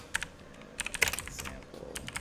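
Close, rapid computer keyboard typing while HTML code is written for a website template, with irregular bursts of key clicks and no talking.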